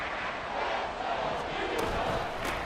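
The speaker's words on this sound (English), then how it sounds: "this crowd trying to force a false start here" Stadium crowd noise from Madden NFL 24 during a Vikings at Eagles Thursday night game, a steady dense roar of fans trying to force a false start, sustained and loud throughout with faint commentary underneath.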